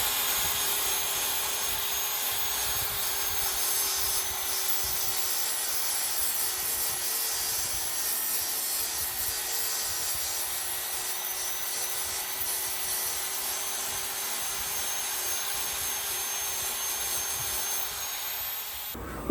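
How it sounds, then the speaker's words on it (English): A grinder works steadily over filled wood on a door, a loud, continuous abrasive whine and rasp holding for nearly twenty seconds before easing off at the end. "then it's on to do a bit of grinding"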